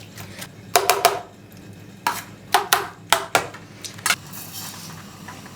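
Roasted aubergine being mashed in a pan for baingan bharta, several close irregular thuds and scrapes of a utensil pressing against the pan bottom, separated by short quiet gaps, no talking.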